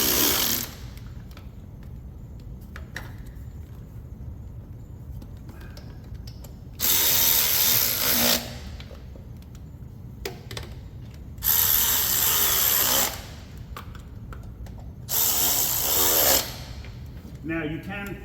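A hand ratchet clicks in three bursts of quick rapid pawl ticks while bolts are tightened on a 2004 Chevy Silverado with the 6.0 LS engine, with quiet mechanical shuffling between the bursts.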